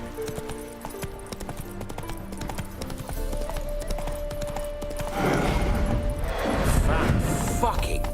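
Horse hooves clip-clop at a gallop in The Witcher 3, a rhythmic thudding that grows louder and denser, layered over game music with a brief spoken remark early on.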